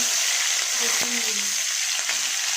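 Garlic hits hot oil already tempered with black cumin and a chilli, giving a loud, even frying hiss throughout with a couple of faint clinks and brief murmurs beneath.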